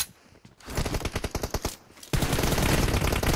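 Loud, fast automatic gunfire in PUBG Mobile, a rapid string of shots followed by a brief pause and then a dense, continuous burst.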